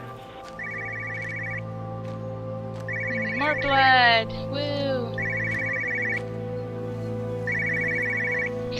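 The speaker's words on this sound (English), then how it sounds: "Did I hear a phone?" A telephone rings in Everybody's Gone to the Rapture, its electronic trill repeating in four evenly spaced bursts over a steady low ambient hum, with a person speaking briefly in the middle.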